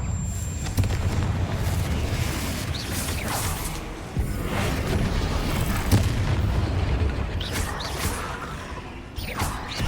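Confringo spell blasts in the Hogwarts Legacy video game during a spider fight, a dense barrage of booming explosions and whooshes layered over continuous loud game noise.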